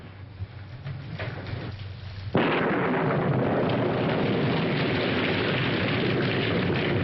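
Heavy rain pours down steadily at night in a 1940s rural setting, swelling abruptly to a loud, dense, continuous downpour after a quieter opening.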